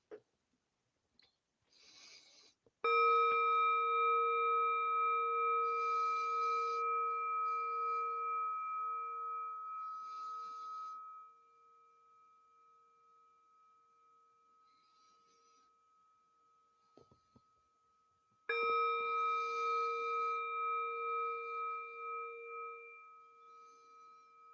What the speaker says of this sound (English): Really hear this ring of the bell.